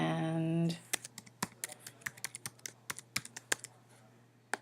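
A username is typed on a computer keyboard in quick, uneven bursts of close, crisp clicks, right after a voice trails off.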